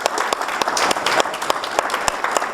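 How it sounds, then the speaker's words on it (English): An audience in a conference hall gives a round of applause, dense and loud, many hands clapping continuously with a lively crowd texture throughout. "First of all, a round of applause"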